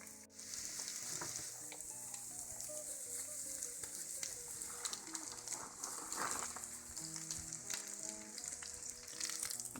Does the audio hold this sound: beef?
yes